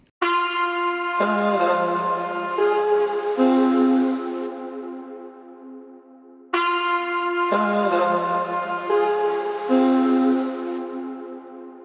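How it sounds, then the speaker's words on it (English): A short brass phrase plays twice, bright stacked horn notes swelling and stepping downward, each repetition identical and ringing out before a brief gap. "this is just like a brass one shot"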